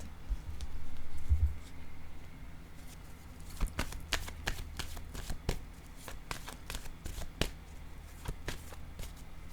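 Tarot cards shuffled and laid down one after another, a run of crisp snapping card sounds over a low hum, preceded by a soft rustle, with no talking.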